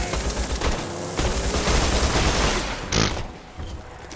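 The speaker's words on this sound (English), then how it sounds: "We're being shot at." Heavy gunfire in Borderlands 2 fills the whole stretch, with dense overlapping bursts of automatic shots, loud and close, and a sharper blast near the end.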